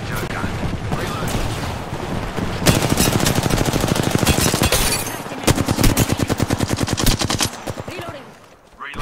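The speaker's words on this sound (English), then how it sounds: "They're shooting at me." Rapid automatic gunfire in the battle royale game Apex Legends, with long close bursts of evenly spaced shots that grow denser midway and fade near the end, partly under game voice lines.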